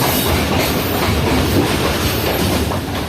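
A passenger train runs steadily on rails through rain, a loud continuous rumble with rhythmic clickety-clack of wheels and broad hiss, heard from onboard with no talk.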